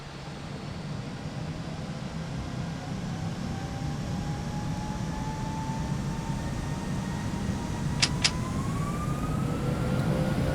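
Airbus A320 engines spooling up for takeoff in a flight simulator, a steady broad roar with rising whine tones building over several seconds, two sharp clicks late on, no talk.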